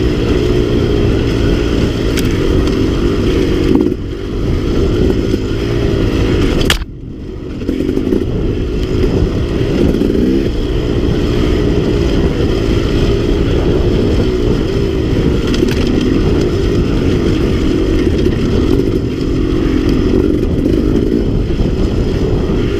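KTM 300 two-stroke dirt bike ridden through aspen woods, a steady loud engine drone with rising and falling revs and clattering over the whole stretch, briefly dropping out about a third of the way in.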